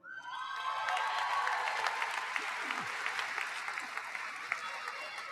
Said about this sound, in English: Maybe we'll hold the applause till the end, or not.